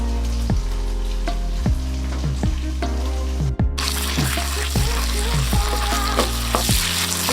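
Vegan protein stir-frying in a pan with black bean paste and miso, a steady close sizzle broken by repeated sharp scraping and stirring knocks at a regular pace.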